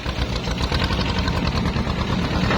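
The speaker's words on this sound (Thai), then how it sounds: "เครื่องยนต์สองสูบนิ่มๆครับ" A small two-cylinder diesel engine on a Kubota excavator runs steadily at low revs, a continuous mechanical chug with a faint rattle and no voices.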